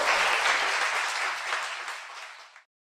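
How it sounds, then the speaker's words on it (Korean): A studio audience at a live talk show gives a short round of applause: many hands clapping together, loud at first, then gradually tapering off and ending suddenly. "박수 부탁드립니다"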